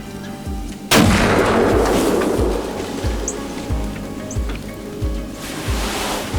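A deer hunter's rifle fires a single loud, close gunshot whose sharp crack booms and fades into outdoor rumble, followed by faint rustling and a rhythmic low thumping in the background.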